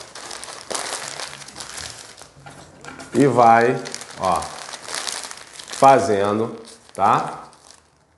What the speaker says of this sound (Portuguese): Vai amassando o papel.